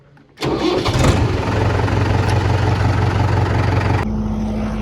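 A tractor engine on a farm cranks and catches after a short quiet moment, then settles into a loud, steady diesel idle near the listener, with a change in tone near the end.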